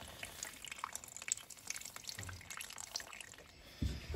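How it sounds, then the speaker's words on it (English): Water dripping and trickling from a pipe during a jobbing plumber's repair, heard as faint, irregular close drips and light splashes in a quiet room. "So you get a little bit of water out, but not too much. While that's just dripping"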